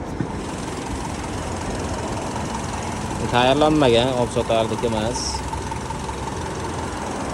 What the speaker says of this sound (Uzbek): Motorni ko'rsatamiz hozir.